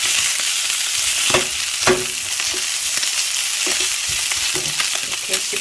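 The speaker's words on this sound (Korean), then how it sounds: "기름 빠져나오고 고기는 아주 잘 구워지고 있네요" Pork back ribs sizzling in a Saladmaster oil skillet, a loud, constant crackling hiss of fat with a few louder pops and spatters, close up and without speech.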